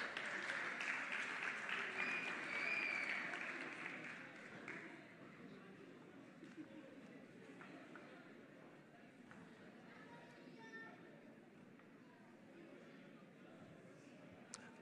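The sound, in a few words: audience applause at gospel competition finale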